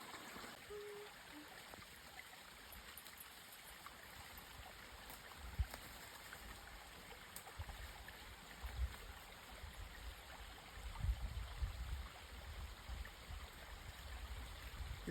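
Natural spring water runs from a pipe under a road and falls into a small stream, making a soft, continuous trickling rush, faint and steady with a few slightly louder surges.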